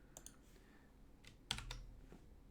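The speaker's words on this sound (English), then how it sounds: "I just hit Control V on my keyboard to paste" A Control V paste pressed on a computer keyboard: a few sparse, quiet key clicks with one sharper press midway, set against a faint, still room.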